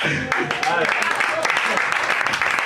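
Applause from an audience, a steady crackle of many hands clapping with some voices mixed in, sustained throughout.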